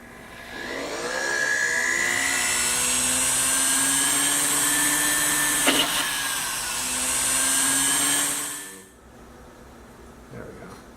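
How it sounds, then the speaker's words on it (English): A drill bores a hole through a small metal piece for wire jewelry work, a steady loud whine holding for about eight seconds, then stopping abruptly. "I'm going to drill a hole through here"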